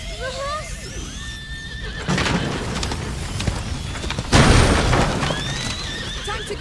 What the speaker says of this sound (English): We need that horse!